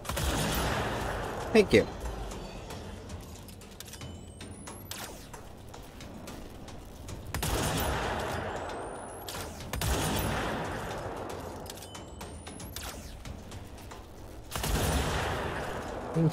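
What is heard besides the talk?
gunfire from a gun in a video game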